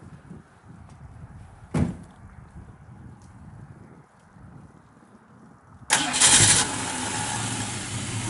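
A 1965 Ford Mustang 2+2 Fastback with a factory 4-barrel intake cranks and fires up after a quiet stretch, then settles into a loud, steady running rumble close by.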